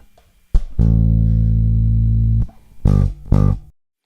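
Bass guitar notes from a verse in a syncopated pattern: a long sustained low note followed by two short punchy notes, played alone and close with no talking.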